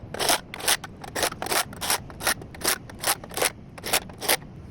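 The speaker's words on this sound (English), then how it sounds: "we're gonna go ahead and thread down all of the top nuts on these elevation bolts" Top nuts being threaded down onto elevation bolts, giving a series of repeated scraping, rasping strokes in steady bursts, close and moderately loud, with no talking.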